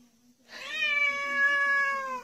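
A pet cat meows close by in one drawn-out, clear call with a rising then sliding tone, following a brief quiet moment; no one talks over it.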